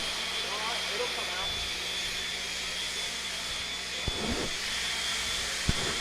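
A blower clearing dirt off an RC off-road race track runs as a steady, fairly faint hiss and whir in the background, with a couple of sharp knocks.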